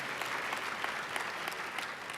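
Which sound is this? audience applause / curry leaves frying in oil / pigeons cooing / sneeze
audience applause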